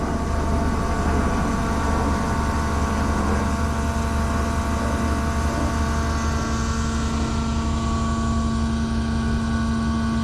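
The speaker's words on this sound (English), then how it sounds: "There's a helicopter somewhere up there." A continuous low mechanical drone with steady tonal hum, like a helicopter flying somewhere overhead, constant in loudness throughout with no voices.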